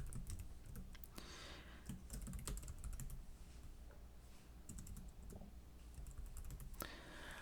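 Names being typed on a computer keyboard, a steady close run of key clicks with short pauses between bursts and no voices.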